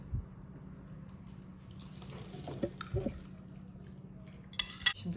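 A utensil scrapes and clinks against a metal pressure cooker while thick green bean yogurt soup is stirred, with soft wet sounds and a sharper clank near the end.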